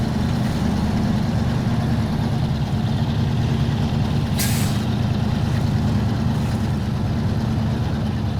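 A heavy truck in the SnowRunner video game rumbles steadily at close range, its engine drone continuous, with a sharp hiss of air brakes releasing about halfway through.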